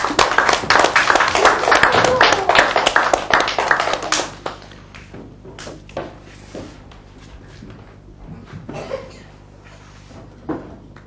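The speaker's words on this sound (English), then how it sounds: "And this group also gets a big clap." Young pupils in a classroom give a big round of hand claps, loud and dense for about four seconds, then fading to scattered claps and light shuffling noise.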